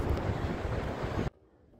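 Strong wind at Glenelg beach, South Australia, buffets the microphone in a loud, roaring rush, then cuts off abruptly to a much quieter background.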